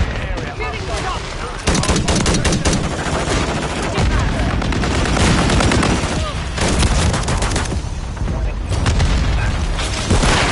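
A loud, dense firefight from Modern Warfare 3 rages almost without pause: rapid automatic gunfire, overlapping shots and heavy booms, close and continuous over ten seconds.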